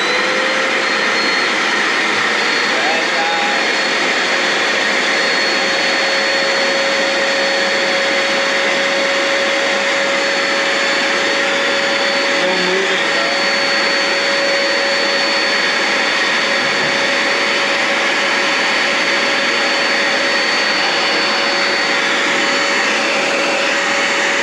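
A vacuum cleaner from a Costco mystery pallet runs continuously and loudly with a steady motor whine and airflow roar, unchanging throughout and with no talking.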